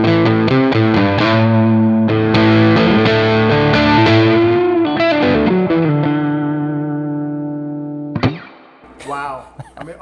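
A Relish electric guitar with swapped pickups plays loud distorted chords and runs that thicken and then ring out and fade, followed by a brief burst of talk near the end.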